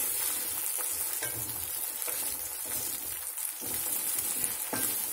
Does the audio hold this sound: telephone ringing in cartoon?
no